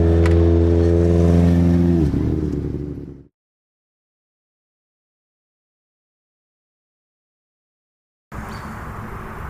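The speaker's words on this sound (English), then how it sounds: "It's powered by an A-Series 1460 race engine and it produces 154 horsepower." A Mini fitted with a 154-horsepower A-Series 1460 race engine revs loud and close, its deep tone sagging before cutting out, then bursting back in near the end after a few seconds of silence.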